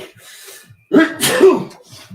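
A single sharp human sneeze indoors, a short inhale followed by a loud burst, close and alone with quiet before and after.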